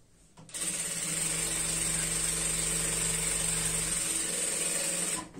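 An electric sewing machine runs continuously for about five seconds, stitching the side seams of a semi-Patiala salwar with a fast, even whir, loud and close, starting and stopping abruptly.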